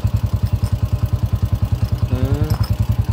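A motorcycle engine, just back from an overhaul, runs at a steady idle close by, its loud, regular thumping pulses unbroken, with a brief rising squeal partway through.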